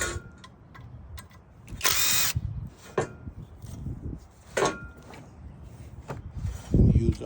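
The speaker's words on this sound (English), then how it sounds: "I'm removing the oil cooler bolts" A power tool removing oil cooler bolts on a 2017 Nissan Sentra, short close bursts of whirring drive separated by pauses, with clicks and clatter of parts between.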